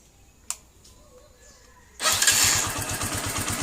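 Motorcycle fitted with a Nibbi 28mm carburetor: a single sharp click, then the engine fires on one press of the starter and settles into a loud, close, rapidly pulsing idle, with no throttle blips and no talking.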